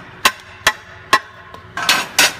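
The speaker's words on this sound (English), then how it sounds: "we want to chip that away using a hammer or another piece of steel" A hammer knocks slag and dross off freshly plasma-cut steel: several sharp, separate metallic strikes at an uneven pace, then a closer, denser cluster of heavier scraping blows near the end, with no talking.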